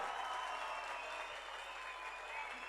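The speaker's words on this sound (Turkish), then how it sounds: "okulun öğrenci mevcudu biraz fazla olunca alkış da fazla oluyor" Applause from an audience at an inter-school Artvin folk song competition: a steady, distant patter of many hands clapping, fairly faint and even throughout with no break.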